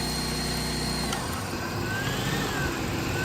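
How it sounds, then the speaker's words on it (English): A red electric sander runs off a portable power station with a steady motor hum and a faint whine, shifting in tone partway through and continuing evenly. "Turn on the red sander."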